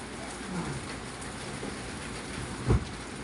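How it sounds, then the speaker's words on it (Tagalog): Steady rain during a typhoon, a soft hiss of falling water heard from nearby, with a brief low thump near the end. "Kasi po umuulan. Kasi may bagyo yata."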